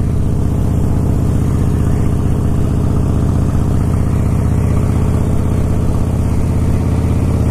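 A Harley-Davidson Blackline motorcycle engine running while riding, a loud, steady low rumble with constant pulsing throb and wind noise, holding an even pitch throughout.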